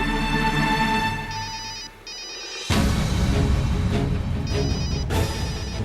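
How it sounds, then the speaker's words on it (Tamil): A telephone rings with an electronic ringtone in repeated bursts. The tonal pattern stops briefly and then returns louder, with no speech over it. "கரீனா தான் ஃபோன் பண்றாங்க."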